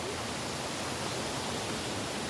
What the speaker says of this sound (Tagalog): Yung falls talaga na hinahanap natin, yun.